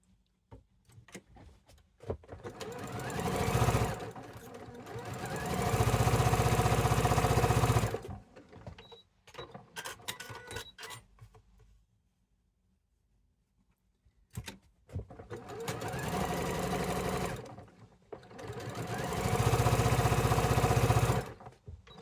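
A sewing machine stitches quilt block pieces for a 2025 sampler quilt, running in several loud bursts of a few seconds each with short pauses and handling noises between them, and no talking.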